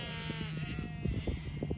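Sheep and lambs bleat repeatedly on a sunny farm in late September as the lambs are brought in for worming, a steady chorus of overlapping calls at moderate distance.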